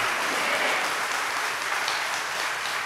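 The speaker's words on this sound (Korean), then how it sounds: "우리 박수 한번 하나님께 올리겠습니다" A church congregation applauds together, a dense, steady wash of clapping that fills the whole moment without pause.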